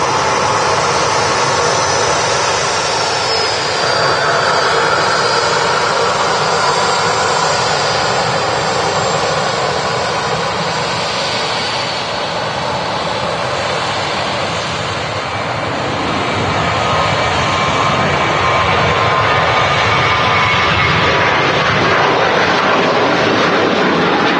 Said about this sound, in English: rolling on the runway now is the Manchester flight to Cologne, Ryanair 1593.